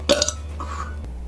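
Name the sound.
a loud burp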